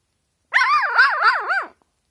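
An angry dog gives a single loud, close, drawn-out wavering growl-bark that rises and falls for about a second before cutting off into silence.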